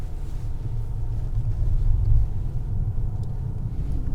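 An armored 2024 Mercedes S680 Guard V12 drives on a punctured tire, heard as a steady low road rumble and muffled engine drone from inside the cabin with no talking.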